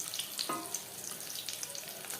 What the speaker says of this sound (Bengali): পরের চপ একইভাবে ভেজে নেব